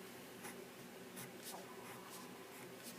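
A pen or marker writes out the terms of a math problem in short, soft scratching strokes, quiet and close over faint background hiss.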